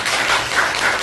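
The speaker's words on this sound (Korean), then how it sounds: "네, 박수 한번 치십시오." Clapping from a seated audience at a Korean health seminar, a dense, steady patter of many hands heard close and loud throughout, with no voices over it.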